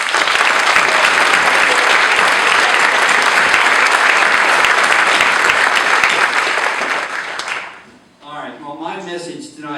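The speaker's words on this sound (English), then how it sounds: "another round to recognize and applaud the parents and the faculty members" A convocation audience gives loud, sustained applause honoring parents and faculty, a dense wash of clapping for roughly eight seconds that tapers off before a voice begins speaking.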